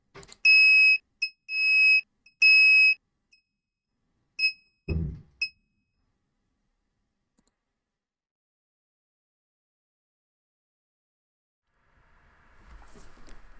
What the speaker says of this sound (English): I can activate the buzzer manually